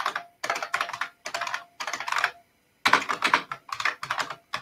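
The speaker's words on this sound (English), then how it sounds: "I apologize for the loud keyboard." Close, loud clacking of a computer keyboard in rapid bursts of keystrokes, separated by short pauses.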